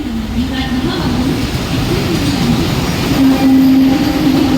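A Mumbai local train arriving at a railway station platform, loud continuous rumble with clattering wheels and a brief squeal, heard close with station noise around.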